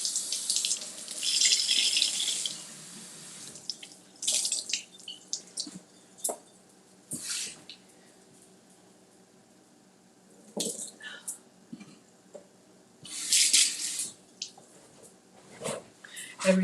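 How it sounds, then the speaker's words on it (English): Tap water runs into a kitchen sink in several separate bursts while berries are rinsed, with splashing between quiet gaps, small knocks and drips, and a person talking over parts of it. "So I'm gonna rinse these off"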